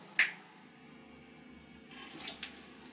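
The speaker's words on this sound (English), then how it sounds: "When I snap my fingers, you will awake and remember everything." One crisp, close finger snap rings out at the start, followed by near silence in a quiet room with a few faint soft rustles.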